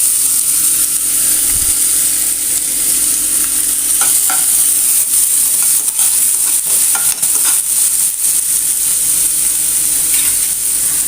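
Finely chopped onion sizzles steadily in hot ghee, with a constant frying hiss and occasional scraping clicks from stirring, close and loud with no talking.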